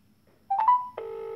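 A Samsung Note 4 phone dials with a quick run of keypad tones, then a steady ringback tone sounds alone for about half a second, close and clear.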